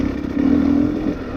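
A 2020 XC250tpi two-stroke dirt bike runs close by, its engine holding a steady mid-pitched drone that swells briefly in the middle as the rider works the clutch, with no talk over it.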